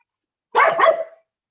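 One close, loud dog bark, a short doubled woof lasting about half a second, against otherwise silent surroundings.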